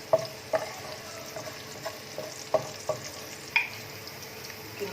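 Finely chopped garlic, about a spoonful, frying in oil in a pan for chicken Manchurian, with faint steady sizzling broken by several sharp clinks and stirring knocks.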